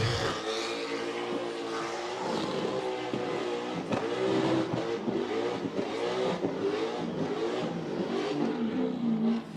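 A burnout car on the pad at Summernats howls at high revs continuously, the engine note wavering and surging loudly as the tyres are shredded, with crowd-level background noise.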